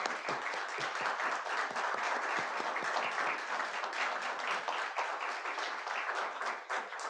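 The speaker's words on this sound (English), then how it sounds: "And let's give them a round of applause." A congregation applauds standing veterans, a sustained wash of many hands clapping at moderate distance, fairly even throughout before easing slightly at the very end.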